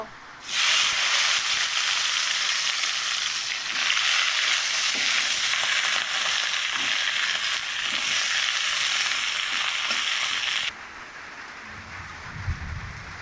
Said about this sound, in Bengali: এই যে বন্ধুরা দেখুন, আমি তেলের উপরে ঢেঁড়সটাকে খুব সুন্দর করে আগে ভেজে নিলাম।